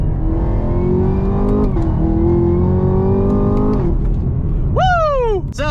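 A Camaro ZL1 1LE with a 6.2-liter supercharged V8 accelerates at full throttle from inside the cabin, its loud rising roar climbing through gears with a brief dip at each shift, then a sharp high rev after a shift near the end.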